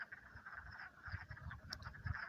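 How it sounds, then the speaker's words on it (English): Frogs call in mating season at a pool on Wolf Hill in Smithfield, Rhode Island, a dense chorus of overlapping low croaks and trills pulsing continuously, fairly faint and with no voices. "This is the sound of frogs in mating season at Wolf Hill"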